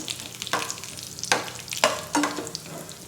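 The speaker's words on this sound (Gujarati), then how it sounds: "ઘી ગરમ થાય એટલે આપણે તેની અંદર કાજુ બદામના ટુકડા તળીશું" Cashew and almond pieces fry in hot ghee for churma ladoo, giving a close, steady sizzle broken by several scraping stirs of a spoon in the pan.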